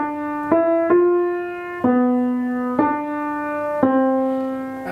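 Piano plays a slow phrase of O Tannenbaum, six single sustained notes struck at an even, unhurried pace, each ringing and decaying before the next, close and clear with no voice.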